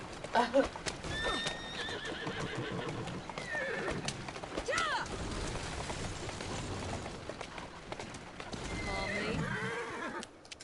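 Horses whinny loudly several times over a steady clip-clop of hooves in the video game Assassin's Creed Syndicate, with a continuous rushing background like rain.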